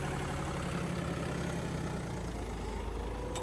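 A John Deere 5210 tractor engine running at high revs, a close, steady, loud diesel drone with a constant low rumble and no talk.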